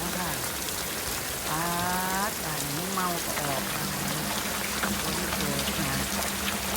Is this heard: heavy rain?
yes